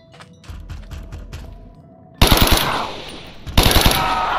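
Zombies are gunned down in Minecraft with the Deadshot Daiquiri mod: a quick run of light rapid taps gives way to two loud bursts of sustained automatic fire with sharp cracks and ringing tails.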